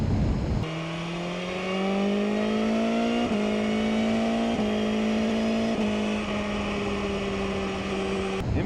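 A new sport motorcycle fitted with an Akrapovic exhaust revs repeatedly, the engine note climbing in steps with brief shifts between pulls, loud and close throughout.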